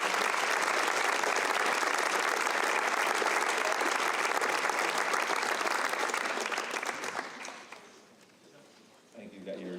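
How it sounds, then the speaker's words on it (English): Loud, dense audience applause fills a school scholarship awards night for the winners, steady for about seven seconds before fading to quieter clapping, then briefly swelling again. "One last round of applause for our Vote Scholarship Award winners."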